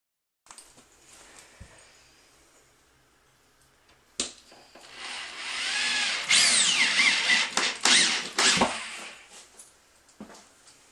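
A power drill drives screws into a plywood trailer floor during a mobile home floor repair, starting with a brief whir and then running in long, loud, close bursts with a few short stops.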